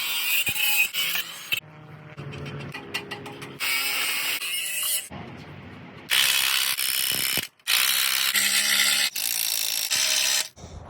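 A ratchet wrench clicks in rapid bursts while nuts are tightened onto the container lift floor mounts of a trailer, its metallic ratcheting repeating in several long runs separated by brief pauses, loud and close.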